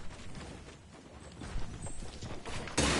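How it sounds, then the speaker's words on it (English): Footsteps thud overhead in a building during a multiplayer video game, a muffled series of clopping steps near and fairly loud, ending in a burst of noise. "Yeah, I heard footsteps."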